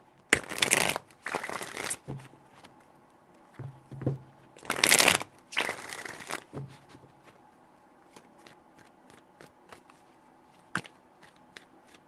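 Tarot cards are shuffled in several quick riffling bursts, close and crisp, followed by scattered light taps and card handling in a quiet room.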